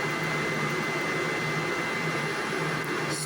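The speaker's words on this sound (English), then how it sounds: "I'm going to jog all the way up to the home position." A CNC machine jogs its spindle up to the Z home position, giving a loud, steady mechanical whirr and hum that runs unbroken and close throughout, with no voices.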